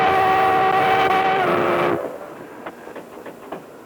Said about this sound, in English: locomotive 476 of the Durango-Silverton extension of the Denver and Rio Grande Western Railroad is about to take 3½ hours to make its way